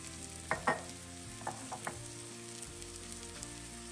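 Ground turmeric and other spices hitting hot oil in a frying pan for a chicken dish, a soft steady sizzle with a few brief louder crackles as each spoonful is stirred in, no talking.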